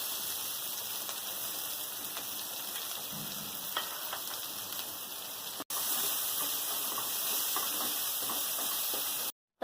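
Chopped onion frying in a pan for a Bengali raw-banana kofta curry, a steady close sizzle and hiss with small crackles, briefly cutting out partway before resuming at the same level.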